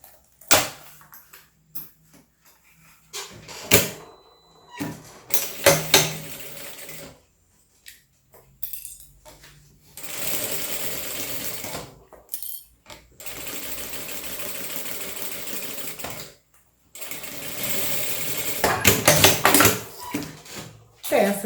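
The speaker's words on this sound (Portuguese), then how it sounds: "E vamos bater uma costura aqui." A sewing machine stitches a fabric phone holder in a series of short and longer runs separated by pauses, close and clear, with occasional handling noises between bursts.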